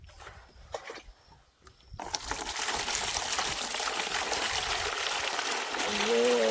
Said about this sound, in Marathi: मला पाणी आणायचे भांडे घासायला थोडंसं पाणी आहे ह्याच्यामध्ये